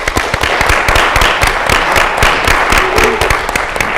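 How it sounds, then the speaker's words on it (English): Loud, crisp clapping from an audience at a live music show, with individual sharp claps standing out within a continuous, close round of applause. "Let's give them a round of applause."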